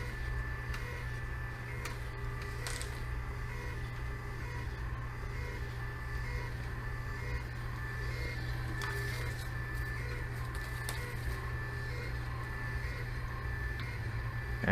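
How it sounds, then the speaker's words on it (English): Label printer printing a batch of shipping labels for FBA, a steady low mechanical hum with faint, sparse ticks and clicks, continuous and fairly quiet, with no voices. "this is the best way I've found to print them all at once on this type of printer, label printer"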